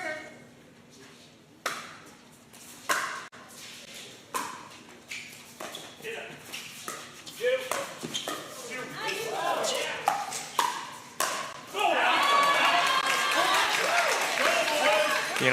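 Cowbells clang at an Arizona pickleball league match between the Surprise Stingers and Tempe Tornadoes. Sharp paddle taps and crowd noise come first, then the bells build into a loud, dense ringing near the end. Commentators talk throughout.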